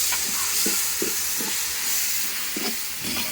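A big pot of biryani for a large birthday crowd is stirred in steady, rhythmic scrapes about every half second, over a constant loud hiss of steam.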